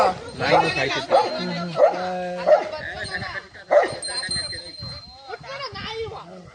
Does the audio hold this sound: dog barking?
yes